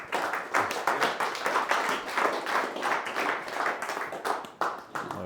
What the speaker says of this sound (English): Let's give PJ a round of applause.